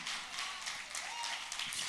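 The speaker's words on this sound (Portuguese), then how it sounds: "Mais forte esse aplauso para ele." Applause from a church congregation during a Pentecostal worship service, a steady dense wash of clapping that runs the whole two seconds without a break.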